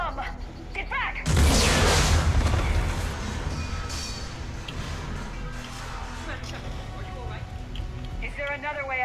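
In the Mass Effect 3 video game, a bomb goes off near a lab elevator with a sudden loud boom that decays into rumbling debris. Game characters speak before and after it.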